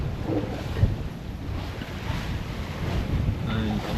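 Wind buffets the microphone as waves wash against a sailboat's hull far out on the Atlantic in about 10 knots of breeze, a continuous rushing roar with no speech.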